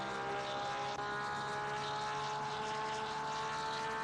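Porsche race car engine in a racing video game, a steady high-pitched buzzing drone held at constant volume throughout, close and unbroken, with no speech.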